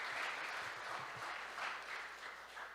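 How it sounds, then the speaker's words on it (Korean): A Sunday church congregation gives a soft, distant round of applause to welcome visitors, an even patter of many hands with no talk. "우리 박수로 환영하겠습니다"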